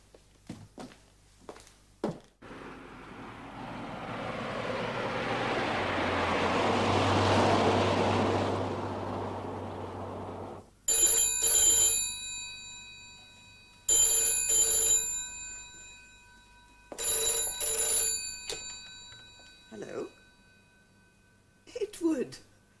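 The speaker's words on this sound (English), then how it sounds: "Just answer the phone." A telephone bell rings in a British domestic drama scene. After a stretch of softer noise, loud, close bell rings come in four separate bursts, each a few seconds long.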